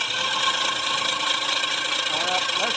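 A Nissan engine cranks over with the flywheel spinning, giving a steady, moderately loud whining drone with a slight rise near the end.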